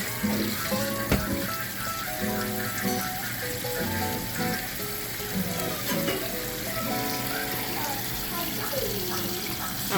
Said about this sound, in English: I'm going to run some pipe water on it.